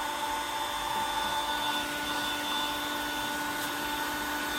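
A heat gun blows with a steady, loud, unbroken whir as it heats a piece of PVC being fitted as protection onto a kayak hull, close and constant throughout.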